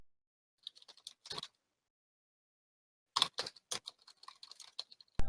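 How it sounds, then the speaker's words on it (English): Computer keyboard typing during an online Dungeons & Dragons session: short, scattered bursts of crisp clicks separated by long silent gaps, fairly close and heard alone. "You're clearly typing."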